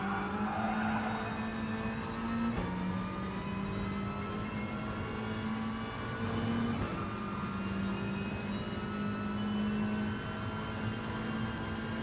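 A Group 1 race car in Gran Turismo Sport holds a sustained engine drone with a steady high tone and brief shifts in pitch while it runs in another car's slipstream, loud and continuous throughout.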